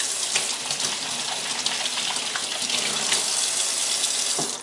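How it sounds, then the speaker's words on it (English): Tap water runs steadily into a sink while hands are washed, a continuous close gush with small splashes throughout and no voices. "And now when I go to the sink, quickly wash my hands."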